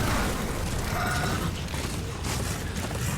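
A stone pillar mechanism in the Darksiders video game grinds and creaks as it moves, a dense, steady rumbling churn with ratcheting texture that stays loud throughout, with no talking.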